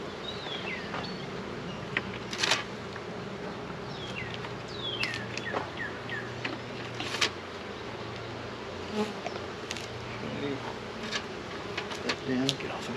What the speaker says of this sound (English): Got some angry bees around me